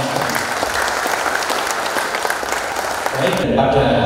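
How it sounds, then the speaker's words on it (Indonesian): An audience at a NasDem party officials' inauguration ceremony bursts into loud, dense applause for the party, the clapping steady throughout before it cuts sharply to a lower, hollower hum near the end. "Tepuk tangan untuk partai."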